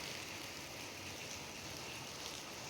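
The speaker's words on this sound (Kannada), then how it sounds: "ನೋಡಿ ಹೇಗೆ ಬರ್ತಿದೆ ಮಳೆ." Steady rain falls hard and evenly outdoors during a walk to the gym, making a broad, continuous hiss with no voices over it.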